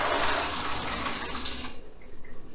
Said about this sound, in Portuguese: vou tirar essa água daqui no nosso escorredor de macarrão